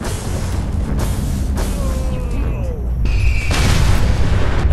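Mini nuke blasts boom repeatedly in Fallout 4, loud rumbling explosions layered over game effects, with a fresh heavy detonation swelling partway through.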